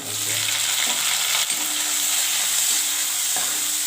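Onions frying in hot oil after tempering spices have spluttered, giving a loud, steady, close sizzle that hisses on without pause, with faint stirring knocks underneath and no talking.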